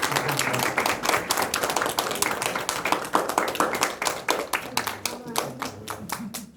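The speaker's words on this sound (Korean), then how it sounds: "박수 한번 드리시기" An audience claps together in a room at a Korean village newspaper workshop, with dense, brisk, fairly close applause that holds steady throughout, and a voice faint beneath it.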